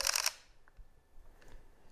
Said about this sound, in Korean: 셔터를 한 번 누르고 있었을 뿐인데 이렇게 3장을 연속으로 찍어요